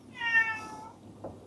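A pet cat gives a single short, clear meow indoors, close by and moderately quiet, followed by a faint soft thump.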